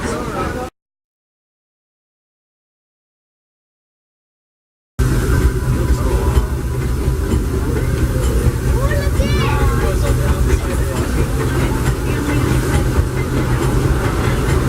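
Riding aboard the Disneyland Railroad behind a steam locomotive: a steady rumble and rattle of the cars with talking over it, after a brief dropout into silence near the start.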